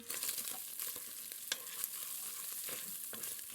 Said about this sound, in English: I want to slowly render out the fat before I start browning the bacon